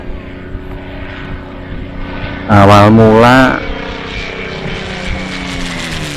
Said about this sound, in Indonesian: pesawat itu terbang mengitari daerah-daerah pedesaan yang waktu itu dicurigai sebagai markas gerilyawan Indonesia